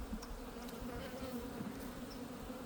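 Honeybees drone steadily inside an opened beehive box during winter preparation, a low continuous buzz with a few brief, closer buzzes rising above the hum.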